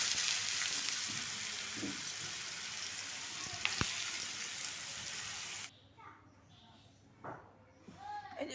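Shredded potatoes for crisp jhuri aloo bhaja fry in hot oil with a steady broadband sizzle for over five seconds, then the frying cuts off abruptly, leaving a quieter room with faint clinks and a few brief sounds.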